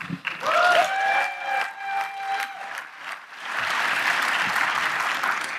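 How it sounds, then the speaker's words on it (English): Audience applause for three gentlemen panelists at an air, space and cyber conference session, building into steady clapping after a brief moment of other sound at the start. "let's have a riveting applause for these three gentlemen"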